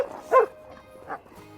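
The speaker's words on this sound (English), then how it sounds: "So here we go, cattle dog stuff." Playful cattle dogs give two short, sharp barks with a small yip, close by, between quieter whimpery sounds.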